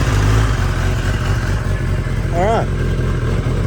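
A 2012 Kawasaki Ninja ZX10R with 57,000 km runs up close with a steady, low engine drone under a voice, with a brief rising note midway.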